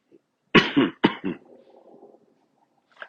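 A few close, harsh coughs in quick succession, followed by a quieter throaty rasp trailing off.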